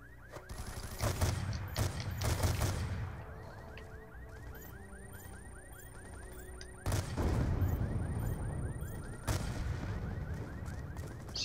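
Heavy gunfire in the Black Ops 2 video game campaign: loud bursts of shots and blasts over a steady rattle of rapid fire, with booming impacts at the start and again partway through.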